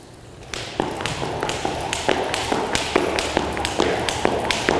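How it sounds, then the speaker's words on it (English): A jump rope swishes and slaps the floor during double unders, giving a brisk, regular series of sharp taps roughly every half second, close and clear with no voices. "listen to the swish of the rope, the contact point of the rope"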